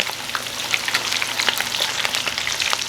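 Coconut-breaded shrimp fry in hot oil with a steady close-up sizzle, broken by frequent sharp crackles and small pops scattered irregularly throughout; no voices.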